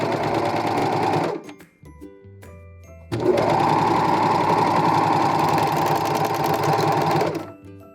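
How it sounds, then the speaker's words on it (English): A serger overlock machine sews two layers of knit fabric together in two loud, steady runs, a short burst, a brief pause, then a longer continuous stretch. "I'm going to serge them together."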